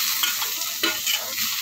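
Tomatoes hit a pan of frying pav bhaji and sizzle loudly and continuously, with close scraping strokes of stirring throughout.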